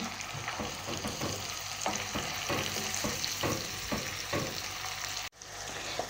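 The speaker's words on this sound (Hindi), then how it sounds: "अब इसमें टमाटर का सालन शामिल कर देंगे, ये टमाटर की चटनी, इसको अच्छी तरह मिक्स कर देंगे।" Tomato chutney being stirred into sautéed chicken masala in a pan, giving a steady sizzle with repeated scraping stirs. A brief dropout near the end is followed by the frying continuing.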